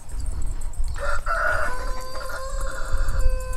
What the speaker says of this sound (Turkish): Bakın şöyle ileri tarafta tavuklar